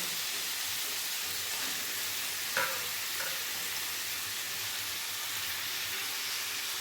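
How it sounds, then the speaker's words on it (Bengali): Mutton fries and is stirred with spice paste in a hot pot, giving a steady, even sizzling hiss throughout. A single faint utensil knock sounds partway through. "মাংস মশলার সাথে ভালো করে কষিয়ে নেবো"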